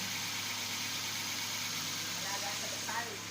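A car engine idles smoothly and steadily after a fuel pump grommet repair fixed a cranking no-start, a faint, even hum with light background noise and a few brief voices.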